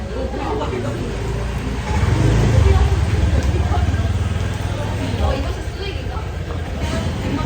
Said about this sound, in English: There's motorbikes in the restaurant.